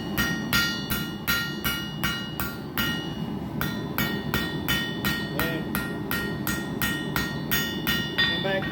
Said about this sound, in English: just using different angles of my hammer to make different types of marks